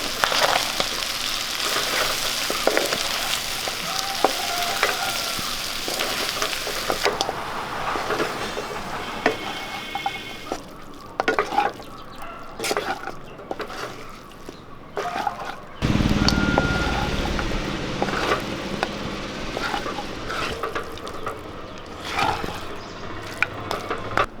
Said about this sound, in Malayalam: നമുക്കിത് നല്ലപോലെ ഇളക്കി കൊടുക്കാം